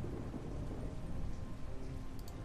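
Steady, dense rain from The Walking Dead Season 2 video game, a continuous soft hiss and patter with a low rumbling undertone, holding even throughout with no voices.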